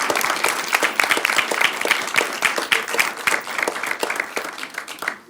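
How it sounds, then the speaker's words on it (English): Warm applause at a school board business meeting, a steady crowd of hands clapping from middle distance that carries on throughout and tapers slightly at the end. "Let's give them a warm round of applause."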